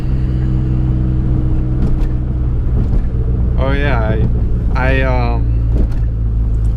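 A V6 Dodge SRT4 cruises along, its engine a steady, loud low drone mixed with wind noise, while a voice speaks briefly partway through.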